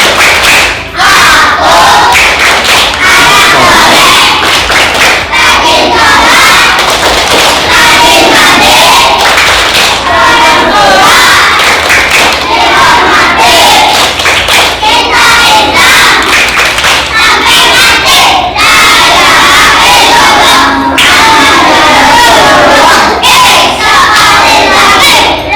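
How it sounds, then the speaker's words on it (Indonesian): Boarding-school children at an Islamic pesantren in Karawang loudly chanting and clapping in unison, a crowded, continuous roar of voices with rhythmic claps and shouts. "Tepuk anak soleh."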